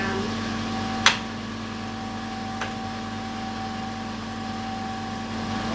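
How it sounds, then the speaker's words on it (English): An air compressor hums steadily beside a wool carding machine in a fibre mill, a constant mechanical drone with one sharp click early on and a fainter knock a little later. "So I've got the compressor going and I'm going to start the carder off"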